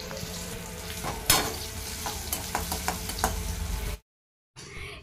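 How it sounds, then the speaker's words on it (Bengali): Fish frying in a pan in a small home kitchen gives a steady close sizzle with sharp crackles and pops throughout, then a sudden break into silence before the sizzling resumes. "এদিকে মাছ ভাজা হচ্ছে"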